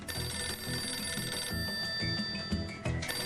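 A telephone rings with an incoming call, a steady electronic ringing tone heard clearly over a busy background of music-like sound, with no one speaking.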